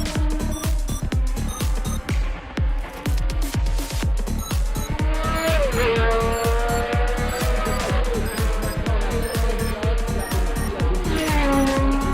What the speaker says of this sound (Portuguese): Na volta seguinte, Patrese também vacila e roda.